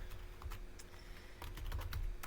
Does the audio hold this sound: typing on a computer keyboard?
yes